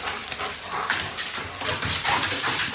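A dog whimpers and yips for food, probably inside a vehicle on a motorway, with thin high whines rising over constant loud road noise.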